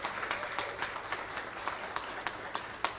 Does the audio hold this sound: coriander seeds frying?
no